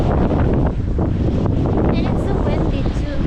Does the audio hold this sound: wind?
yes